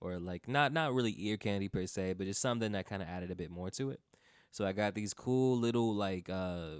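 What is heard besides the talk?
None of the usual background noises is heard.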